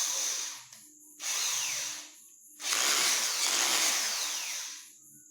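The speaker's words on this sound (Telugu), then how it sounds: "ఫస్ట్ అయితే నేను స్క్రూని ఈ పైప్ బిగిస్తున్నాను." An electric drill drives a star screw into a pipe, giving three close, loud bursts of high whirring, each separated by a short pause, with the last burst running longest.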